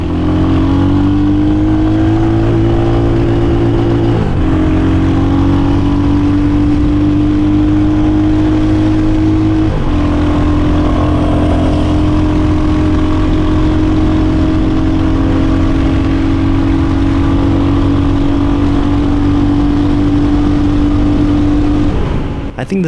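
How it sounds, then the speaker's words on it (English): Royal Enfield Hunter 350 (2023) motorcycle with its stock exhaust, engine droning loudly at a steady pitch while riding, with a couple of brief shifts in tone as revs change; wind noise and some talk mixed in. "this second bike that I rode was only equipped with the stock exhaust"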